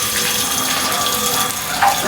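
Tap water runs in a strong, steady gush close by, an unbroken splashing stream with no voices over it.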